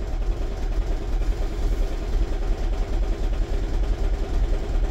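Close, continuous idle of a 2009 Toyota Prius 1.5 hybrid engine, a steady low drone with a light mechanical rattle running underneath, no voices.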